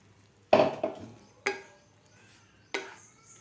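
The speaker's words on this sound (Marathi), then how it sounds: "मीडियम गॅसवर आपल्याला सहा ते सात मिनिट हे पीठ भाजून घ्यायचं आहे" Green moong flour roasting in ghee in a pan over medium heat, stirred with a utensil that gives four distinct scraping strokes separated by short pauses, close and fairly quiet, with no talking.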